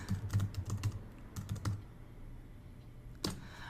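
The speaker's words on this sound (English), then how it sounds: "I can't talk and type at the same time." Quick bursts of typing on a computer keyboard, close clicky keystrokes in a short flurry, a pause, then a final single tap, with no voices.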